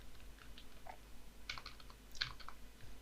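Quiet keystrokes tap on a computer keyboard, a few scattered clicks and then a brief cluster, close and soft, with no talk.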